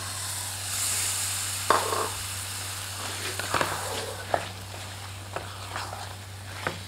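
Boiled potato pieces cut small fry in a pan for a chana chaat, giving a soft continuous sizzle with a few scraping stirs and clinks breaking through, over a low steady hum.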